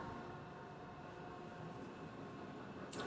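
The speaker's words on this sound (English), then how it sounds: "There's our pet train." A train rumbles past in a steady, continuous roar with broadband noise, moderately loud and unbroken throughout, with a brief brighter burst at the very end.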